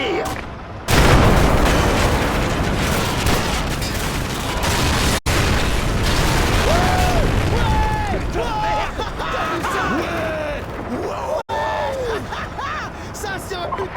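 Weapon fire and heavy explosions from the video game Modern Warfare form a loud, dense barrage of booms and shots that runs almost without pause. Voices shout in French over the din.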